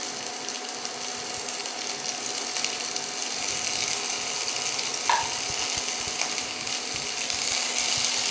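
Sliced large onion with whole cumin seeds sizzles steadily in hot mustard oil, a dense, continuous close-up frying hiss with a few faint stirring clinks and no talk.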